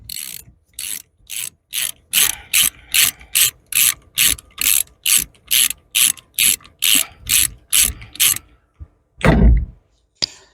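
A socket ratchet tightens down on the steering-wheel nut of a 1980 Dodge B300 motorhome, giving about eighteen loud, evenly spaced clicking strokes close up, then a brief clunk.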